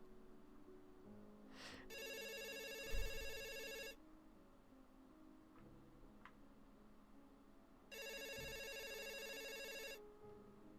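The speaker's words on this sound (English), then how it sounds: "If you think I'm going to answer the phone, you're surely mistaken." A telephone in the video game 2000:1 - A Space Felony rings in two long electronic bursts several seconds apart, with a quiet background hum and a few small clicks between them.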